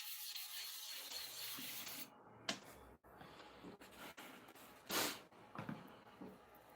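Barber's blade stroked back and forth on a sharpening stone, giving a faint, steady gritty rubbing with a few sharper scraping accents; no talk.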